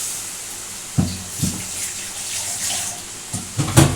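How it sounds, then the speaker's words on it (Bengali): Water used to rinse a mixer jar being poured into cooking raw mango and tomato chutney, a close steady wash of liquid with a few soft splashes and sizzle-like bursts, no talking. "আর একটু মিক্সি ধোয়া জলটা দিয়ে দিলাম"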